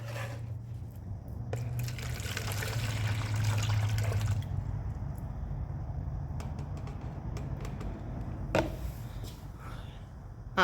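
Water pours from a bucket into a measuring cup in a steady, soft splashing stream that lasts several seconds, followed by a few faint drips and small knocks in a quiet room.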